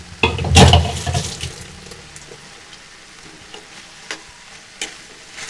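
Cauliflower palya sizzles in a pan as water is added from a mixer jar: a loud splash and stirring burst at first, then a soft steady sizzle with occasional spoon clicks.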